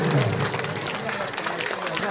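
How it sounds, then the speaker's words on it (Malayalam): Schoolchildren clapping together at a school retirement function for a teacher, a dense, steady patter of many hands close by with crowd murmur underneath. "നന്നായി കൈയടിച്ച് കൊടുക്കാൻ കൊടുക്കുക"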